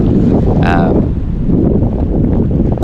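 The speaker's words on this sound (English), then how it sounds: "they didn't expect this much wind today" Strong wind buffets the microphone on a Native Watercraft Titan Propel kayak out on open water, a loud continuous low rumble, with a brief high whistling tone and a faint voice underneath.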